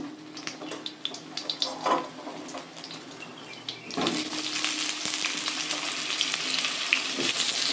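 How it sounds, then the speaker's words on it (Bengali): Potatoes sizzle in hot oil, the frying growing louder and steadier midway, with occasional stirring clinks over a constant crackle. "আলু কটা একটু ভেজে নিই।"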